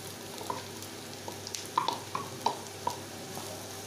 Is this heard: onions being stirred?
yes